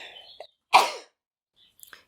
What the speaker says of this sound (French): Oui, on éternue beaucoup,